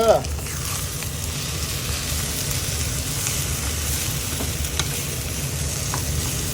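Fried rice made with brown rice, with tomato and spring onion, sizzles steadily in a pan with a constant close crackle and a few faint stirring knocks; a voice is briefly heard at the start.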